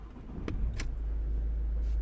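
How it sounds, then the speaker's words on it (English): A Ford Galaxy's engine catches after a couple of faint clicks and settles into a low, steady rumbling idle, heard from inside the car. "Let me start the car"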